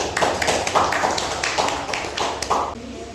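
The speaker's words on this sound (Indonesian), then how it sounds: "Oke, tepuk tangan" Audience members clap for a moment in a classroom lecture, with sharp, fairly even claps about every half second over a low murmur of voices.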